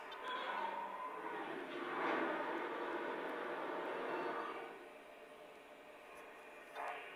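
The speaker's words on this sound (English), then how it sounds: "The water fill-up sequence." A soft, rushing hiss of water filling a Lionel Vision Line 49'er Challenger model locomotive's tank, a sound effect with a swelling whoosh midway and a short burst near the end.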